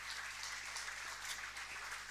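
Continuous applause from a church congregation, a steady dense patter of clapping with no pauses, moderately loud throughout.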